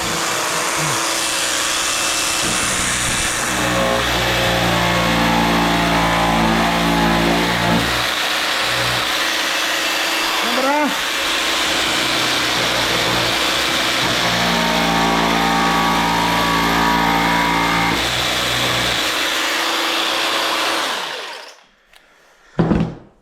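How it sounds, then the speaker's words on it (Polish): A Parkside jigsaw cutting wood for a windowsill runs steadily with a buzzing, revving motor for about twenty seconds, pitch rising and falling as it cuts, then stops abruptly. "Wyżynarka, oczywiście mój Parkside."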